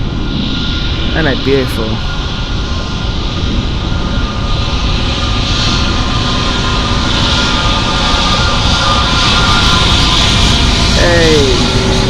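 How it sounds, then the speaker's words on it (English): Airbus A320neo jet engines roar loudly and continuously at Frankfurt Airport, a close, sustained aircraft drone with whining tones, while a person talks over it. "Look how big those engines are on the Neo."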